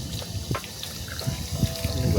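Cold water running and splashing, as when washing feet at an outdoor tap, a steady trickle and patter close by with no talking.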